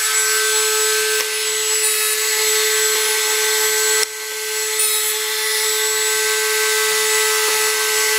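A power chamfering tool runs steadily as it cuts along a metal edge, giving a constant loud whine and grinding hiss with a brief dip midway and no voices.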